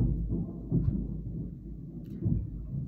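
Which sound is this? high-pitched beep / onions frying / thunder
thunder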